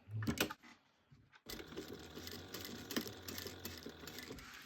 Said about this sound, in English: We're just going to sew this on at 1/8 of an inch.